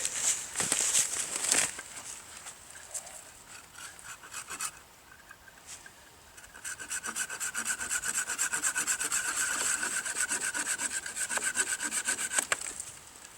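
A handsaw cuts off the end of a wooden bushcraft broom handle with rough, rhythmic rasping strokes. A short burst is followed by a pause, then a long run of fast, steady strokes, close and loud.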